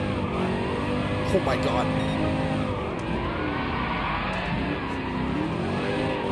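Race car engine roaring steadily in fifth gear during online drifting in Gran Turismo on PS5, a loud sustained whine with rising and falling pitch and some tire squeal, while someone talks over it.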